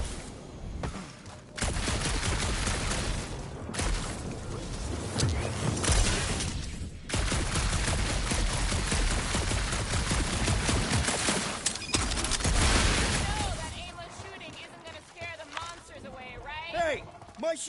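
Sustained gunfire from Guardians of the Galaxy, dense and continuous over most of the stretch, with brief gaps and a voice talking over it near the end.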